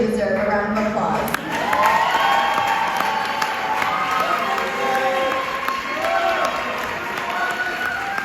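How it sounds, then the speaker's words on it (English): A sports banquet crowd cheers and whoops for student athletes, a sustained loud wash of mixed voices with a brief dip early on, then steady crowd noise throughout; clapping blends into the cheering. "So these guys really do deserve a round of applause."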